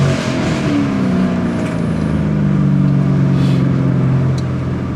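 Loud, steady engine roar from a 1996 Ford Mustang SVT Cobra, held close and continuous with a slowly rising pitch as the revs build, no voices over it.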